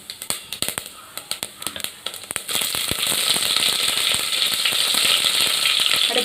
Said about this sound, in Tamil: வெந்தயம், கடுகு நல்லா பொரிஞ்சதும் கருவேப்பிலை சேர்த்துக்கலாம்.